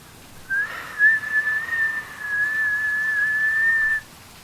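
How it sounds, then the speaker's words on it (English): A referee's whistle during a match in the Melon Cup finals sounds one long sustained steady tone after a couple of short starting chirps, clear and alone. "the referee blows the whistle"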